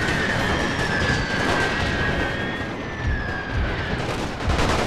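Massed rifle volleys crackle through a World War I strategy game, with dense overlapping shots and thuds sustained for several seconds. A faint tonal whine drifts above the firing, and no one talks.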